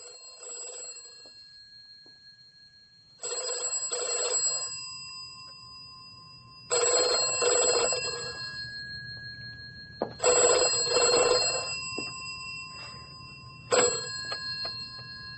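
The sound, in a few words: telephone ringing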